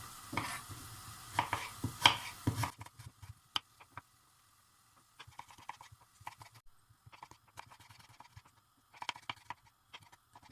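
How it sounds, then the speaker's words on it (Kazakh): Knife slicing carrots thinly on a cutting board, a run of dense rapid chops at first, then scattered sharp taps and pauses, close up with no talking. "Сәбізімізді де мен ортасынан екіге бөліп, мынадай жұқалықта өздеріңіздің қалауларыңызша турай бересіздер."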